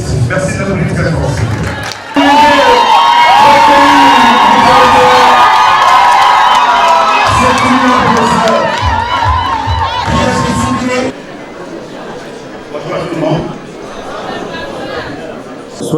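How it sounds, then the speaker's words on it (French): An audience at an institute gathering cheers and applauds loudly after being asked to welcome the institute's founder, with shouts and whoops over crowd noise, then talk continues over quieter chatter. "Merci de l'applaudir très fort."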